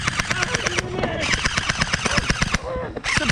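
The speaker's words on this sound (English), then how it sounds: "Suppressing fire!" Airsoft guns fire in rapid bursts of sharp clattering shots during a man-hunt game, loud and close with brief gaps, while players shout over them.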